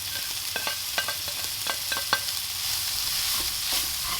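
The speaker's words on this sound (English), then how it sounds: "But try and keep all the bacon fat in the frying pan. And now we add the onion and garlic" Onion and garlic sizzling in bacon fat in a frying pan, a steady close hiss with a few light scrapes and taps of a utensil early on.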